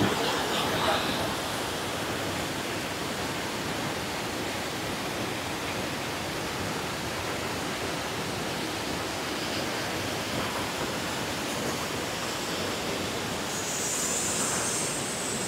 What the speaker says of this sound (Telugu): నీ కాళ్ళ కింద వాటర్ ఫాల్ ఉంది ఇప్పుడు.